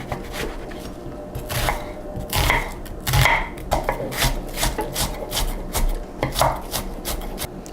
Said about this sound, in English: So now that my onions are chopped